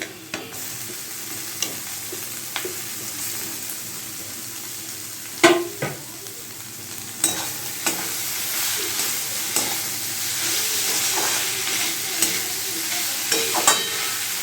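Red chili powder masala sizzles and fries in a pan while being stirred for a Bengali banana flower curry, with a steady frying hiss broken by scraping spoon strokes and occasional clinks against the pan.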